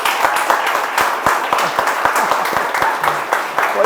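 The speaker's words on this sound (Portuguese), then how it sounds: "Uma salva de palmas para o nosso querido" Close, loud clapping from an audience at a free music workshop event for a departing guest, sharp individual hand claps standing out over a steady applause wash, with a few voices faintly underneath.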